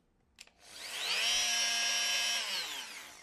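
A Bosch PMF 350 CES multi-tool starts after a couple of small clicks, rises to a steady high buzzing whine for about two seconds, then winds down, heard close and alone.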